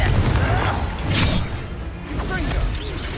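The Confringo fire-blast spell in Hogwarts Legacy bursts out during a duel: a whooshing surge builds into a sharp, loud explosive crack mid-clip, then a fainter rumbling tail with muffled combat noise around it.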